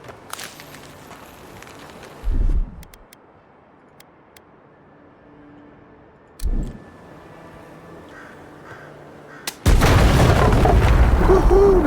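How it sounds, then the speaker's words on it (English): A grenade blast in the video game Avowed: two short, muffled booms go off around 2 and 6 seconds over a quiet backdrop, then a loud, sustained roar of sound fills the final stretch. "So let me throw a grenade."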